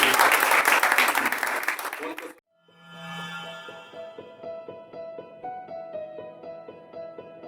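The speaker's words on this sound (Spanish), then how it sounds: "Dale un aplauso al Señor y ponte sobre tus pies." A church congregation bursts into loud, dense applause for a couple of seconds during a Spanish-language service, then the clapping cuts off abruptly and a steady, tonal musical passage begins.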